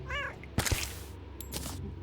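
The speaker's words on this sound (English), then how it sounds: "the cat noises. So I found this cool little vanity item called the cat chime." A short meow from the Cat Chime vanity item in the video game Terraria, a small upward-bending cat call at the start, followed by sharp clanks and clatter of gameplay sound effects, with no talking.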